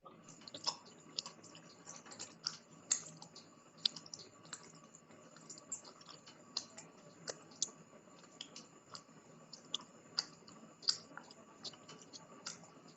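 Rapid typing on a computer keyboard while entering department TIN and PIN numbers into software, a steady stream of close, light key clicks with no talk.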